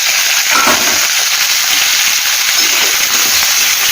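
Steady, loud broadband sizzle of large gooseberry (amla) pieces frying in a pan for a chutney, a continuous hiss with faint crackles and no pauses, heard up close with no voices.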